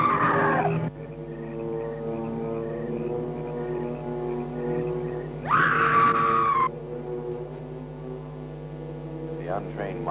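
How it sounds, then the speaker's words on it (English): An eerie ghostly scream rises in an ancient cemetery in a 1959 horror film, a shrill wail swelling over sustained droning tones midway, then fading back into the low drone. "it is the scream of the white ghost"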